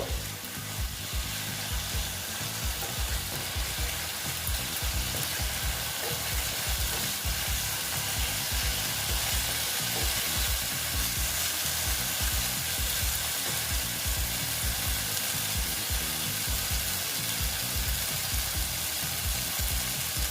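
Pointed gourd curry, a vegetarian potol dish, sautés in oil that has separated from the masala, with a steady sizzle and rhythmic scraping of a spatula stirring the pan throughout, no voices.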